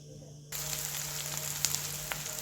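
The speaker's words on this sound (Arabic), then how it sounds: "نخلو البصل يتقلى شويه ثم نعود" Onions sizzle steadily in a hot frying pan for a shakshuka, a continuous close crackling hiss with a few sharper pops, starting abruptly after a brief quieter moment.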